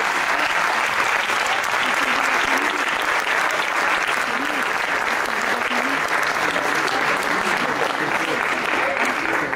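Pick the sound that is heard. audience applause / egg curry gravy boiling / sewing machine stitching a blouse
audience applause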